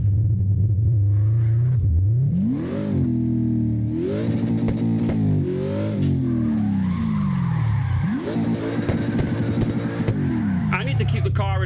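An all-wheel-drive car drifting in CarX Drift Racing Online: the engine revs up and down in repeated rising and falling sweeps, with tire skid and squeal mixed in, loud and close.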